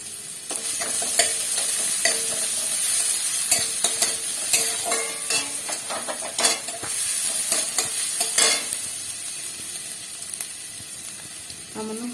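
Onions sizzle in hot oil in a wok while potato chokha is cooked, a steady frying hiss with repeated sharp scrapes and clinks of a stirring utensil throughout.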